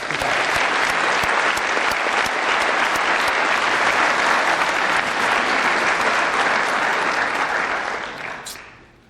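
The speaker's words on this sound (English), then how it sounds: "let's give him a huge round of applause" Loud, sustained applause from a crowd honoring a fire academy recruit at a Kern County Fire Department ceremony, dense clapping that holds steady before fading out near the end.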